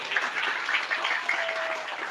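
Audience applause at a religious sermon gathering, a steady patter of hand claps sustained evenly throughout at moderate level.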